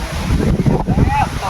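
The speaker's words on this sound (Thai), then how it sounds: "แต่ว่าก็มีลมอยู่" Wind blows outdoors at a sunny rural village gathering, buffeting the microphone as a steady low rumble beneath a man's speech.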